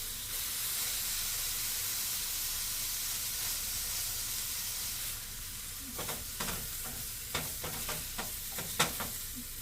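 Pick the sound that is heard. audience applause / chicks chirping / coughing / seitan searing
seitan searing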